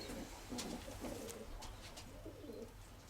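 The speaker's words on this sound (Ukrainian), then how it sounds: "Тут живуть ряба голубка та сірий лускатий голуб суцільний." Soft, low cooing from a speckled pigeon and a grey scaled pigeon repeats in short rolling phrases over a steady background hum, fairly close and continuous.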